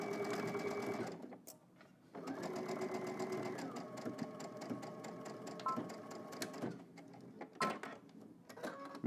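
A sewing machine runs in steady bursts, stitching a straight seam across a casual shorts piece at 5/8-inch seam allowance, close and fairly loud with brief pauses between runs.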